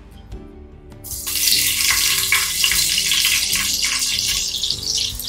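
Sliced big onions sautéing in a pan for Kongu-style white mutton biryani: about a second of near quiet, then a loud, steady hissing sizzle that holds to the end, with a faint low hum beneath.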